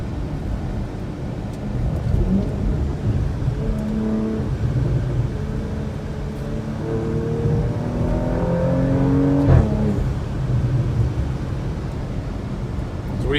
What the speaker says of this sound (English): We're going to see how the acceleration is.